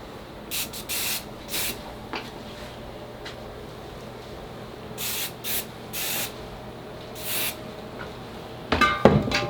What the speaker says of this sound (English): So I'm just using hairspray on the front here.